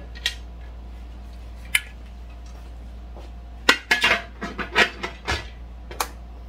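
A metal lid is set onto a canning pot: a few light clinks, then a cluster of close metallic clatters and scrapes as it settles, over a steady low hum.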